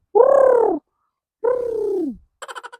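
A pigeon coos twice nearby, two long low throaty calls, followed by a brief burst of faint chirpy clicks.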